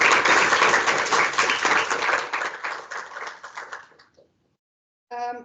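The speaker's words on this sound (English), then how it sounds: "I think we deserve a round of applause for that" An audience at a panel discussion on transgender and gender-affirming healthcare in South Africa applauds loudly, the clapping thinning out and fading to silence after about four seconds.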